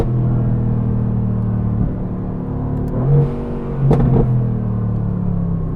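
A high-performance GTR sports car on a back road, engine droning loudly as it pulls, then a couple of quick rev changes like gear shifts near the end.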